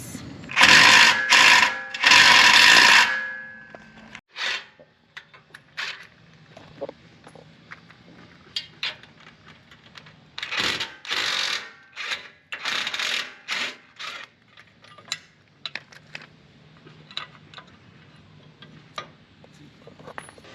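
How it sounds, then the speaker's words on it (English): A 15 mm wrench working intercooler mount bolts on an off-road truck: a few loud rattling ratchet bursts at first, then scattered metallic clicks and taps close by. "We'll take the 15 millimeter and remove these 2 bolts"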